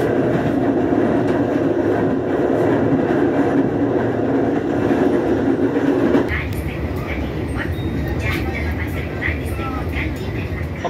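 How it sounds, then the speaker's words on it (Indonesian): Argo Dwipangga New Generation executive passenger train pulling out of Solo Balapan station, a steady broad rumble of the moving train that shifts partway through into rattling, clicking carriage noise, continuous and fairly loud. "kereta api Argo Dwi Pangga New Generation sudah berangkat dan meninggalkan stasiun Solo Balapan"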